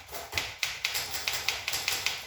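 Typewriter keys struck one at a time in a steady, slightly uneven rhythm, each a sharp mechanical clack, close and clear with no talking, at a typewriter night in Vienna where visitors try out several machines.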